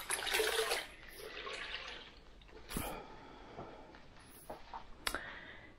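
Tap water runs and splashes in a sink while small Pinscher-type dogs are rinsed, a steady wash at first that eases into scattered drips, trickles and splashes, close by.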